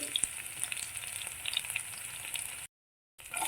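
Garlic sizzles in hot oil with a steady, crackling frying hiss at close range, briefly cut off near the end before the sizzle resumes.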